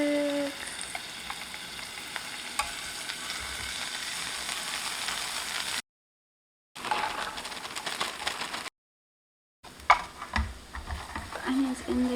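Garlic and onions frying in coconut oil, stirred with wooden chopsticks, giving a moderate steady sizzle with occasional clicks and scrapes, interrupted by two short gaps of silence, with a voice speaking now and then.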